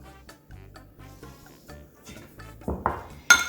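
Food being tipped into a metal pot for a 1950s lumberjack macaroni and cheese, heard as a few close clattering knocks and a brighter clang of utensil against pot at the end, with no talking.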